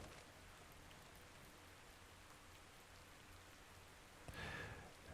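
Steady rainfall in the survival game Ark Survival Ascended, a dense even patter of drops that holds throughout and swells slightly near the end, with no voices.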